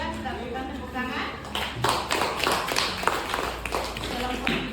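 Students in a classroom clap for a group that has just presented, a burst of quick, uneven hand claps that swells and continues under talk, fairly close and lively.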